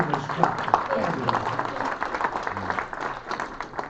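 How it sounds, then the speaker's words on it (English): A crowd applauds with steady clapping mixed with voices, a dense burst of hands lasting a few seconds. "Another round of applause."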